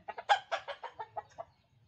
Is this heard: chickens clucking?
yes